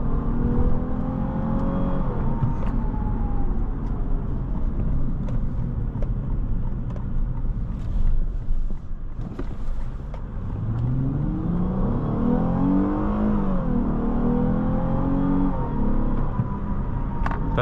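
The engine of a 2018 Lexus GS 350 F Sport roars nearby and climbs in pitch as it accelerates, eases off mid-way, then revs up again.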